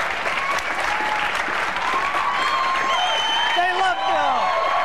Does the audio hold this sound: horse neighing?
no